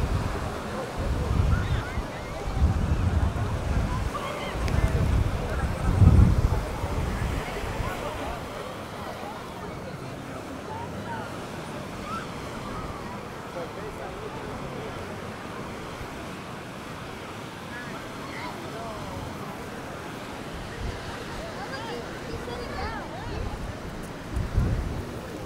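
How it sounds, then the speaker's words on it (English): Strong ocean surf rolls onto Coney Island beach in New York City on a windy day, rumbling waves surge and recede under gusty wind noise, with a voice talking at times. "The waves are quite strong today."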